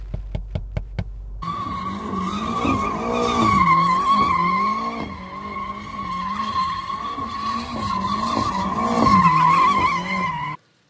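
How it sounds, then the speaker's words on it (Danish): A BMW X5 M Competition SUV drifts with loud, sustained tire squeal that wavers in pitch over a straining engine, close up, after a few sharp clicks at the start, then cuts off abruptly. "så du faktisk kan drifte"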